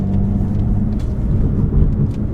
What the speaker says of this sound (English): just drive mildly in sport mode